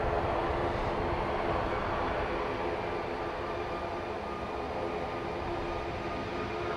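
A Boeing 737 MAX 9 at Dublin Airport gives off a steady, fairly faint jet roar that holds an even broadband rumble throughout with no change in level.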